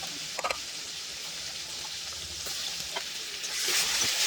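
Vegetables frying in a pan with dried red chilli, bay leaf and panch phoron, giving a steady close sizzle with a few light stirring clicks and a brighter hiss near the end.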